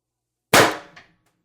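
A single sharp crack from an Umarex TR50 CO2 air rifle fitted with a tuning barrel extension, loud and close, followed by a brief faint metallic tail.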